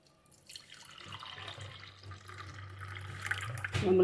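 Juice from smashed dry black grapes runs through a filter and pours into a container below. It makes a soft, trickling liquid sound that grows gradually louder over a few seconds, heard up close.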